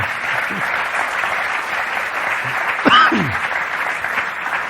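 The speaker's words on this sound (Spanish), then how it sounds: "Mira toda la gente que te va a aplaudir ahora mismo." Audience applauding a Spanish scientist, steady broadband clapping throughout with a brief voice rising over it near the middle.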